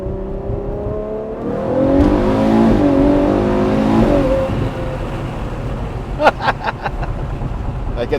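A car pulls away hard, its engine note rising in a steady harmonic sweep for a few seconds and then easing off, followed by a run of sharp clicks and knocks.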